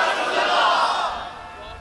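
A crowd chanting a religious slogan at a gathering, a sustained massed roar of many voices that swells and then slowly fades.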